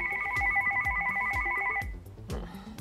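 A phone receiving robocalls gives a warbling electronic ring for about two seconds, repeating pulses over a rhythmic background music bed that carries on after the ring stops.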